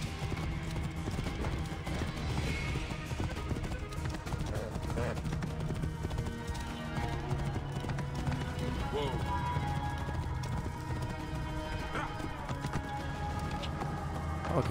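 Horse hooves clip-clop in a steady galloping rhythm throughout, from a mount ridden in Assassin's Creed Origins, with a continuous game soundtrack and someone talking over it.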